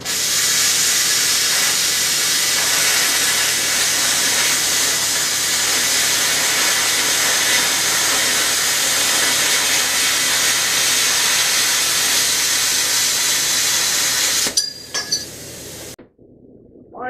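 A plasma cutter runs on steel at about 20 amps with a 15 to 25 amp tip, giving a loud, steady hiss for most of the clip and ending with a few metallic clinks.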